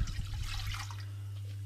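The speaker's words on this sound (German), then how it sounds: "Ich nehme dazu mal einen halben Liter Wasser" Half a liter of water poured for homemade apple syrup, a brief splashing gush that fades after under a second, leaving a steady low hum.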